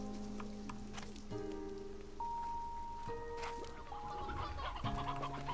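Several chickens cluck repeatedly in the video game Slime Rancher 2, short clucks over tonal game music with a patter of rain-like ambience.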